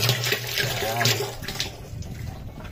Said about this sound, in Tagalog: Tubig namin, lakas oh.